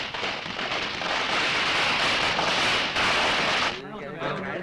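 A string of firecrackers bursts in a Malayalam film scene, a loud, dense run of rapid cracks for nearly four seconds before it cuts off and voices follow.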